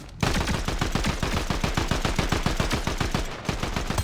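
A sustained burst of rapid automatic gunfire in the video game Fortnite, loud and close, with evenly spaced shots running almost without pause.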